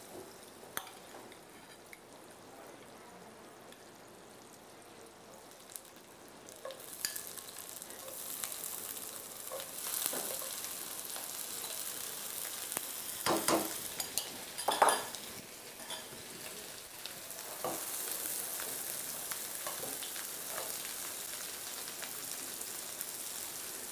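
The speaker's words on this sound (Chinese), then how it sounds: "我们用少许的奶油把它煎一下虾子哈" Shrimp go into a pan of melted butter and begin frying, a soft hiss that swells into louder crackling sizzle, broken by clinks and scrapes of a utensil against the pan.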